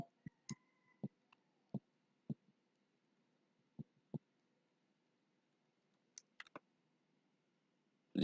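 Sparse key presses on a computer keyboard sound as isolated, crisp clicks in a quiet room, irregularly spaced with a pause midway before a few more taps.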